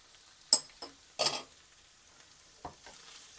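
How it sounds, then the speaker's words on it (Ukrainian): Flour being stirred into lightly fried onions in a pan, a few short scraping and clinking strokes with quiet pauses between, close and fairly soft. "І перемішую"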